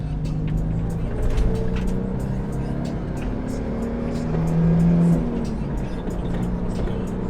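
A 1996 Nissan Pathfinder R50 4x4 with a swapped 5-speed manual hums steadily inside the cabin, rising and settling as it pulls through gears, with a low constant road rumble throughout.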